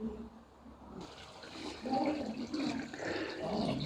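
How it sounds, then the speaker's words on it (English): Water from a small spout trickles and splashes steadily into a tiny indoor fish pond fed by a little stream inside a garden glasshouse, a continuous gurgling wash that grows fuller partway through. "A tiny indoor fish pond with a little river and water spout"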